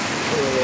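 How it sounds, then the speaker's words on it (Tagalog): Heavy typhoon rain pours steadily in a broadband hiss close to the microphone as a river floods nearby during Typhoon Crising, with a faint tonal whine briefly rising through it. "wala pa rin tigil ulan"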